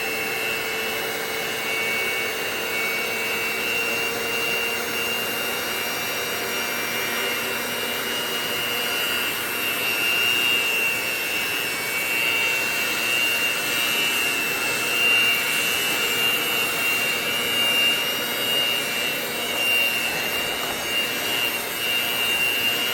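Electric mixer stirring milk into spice cake batter, a steady whirring drone that holds continuously and fairly close with no talk.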